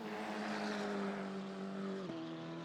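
A Maserati race car in Assetto Corsa Competizione at Brands Hatch drones with a steady, buzzy engine note at moderate volume, then drops sharply in pitch near the end as it shifts or lifts off.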